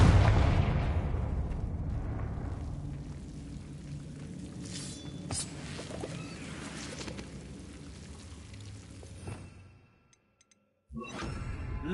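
A Confringo fire-blast spell in Hogwarts Legacy, a burst with a crackling, rain-like spray of debris that slowly fades, a near-silent gap, then another noisy burst at the end.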